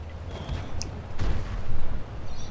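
Tank gun fire in World of Tanks, a deep, rumbling boom around the middle that rolls into a low sustained roar, heard over a continuous battlefield drone with no talking.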